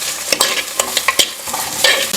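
Onions sautéing in a pan for a Pongal family meal, stirred briskly with a utensil, giving sharp scraping strokes over a faint frying sizzle, close and fairly loud.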